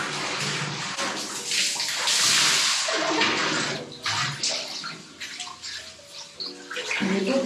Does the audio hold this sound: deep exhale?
no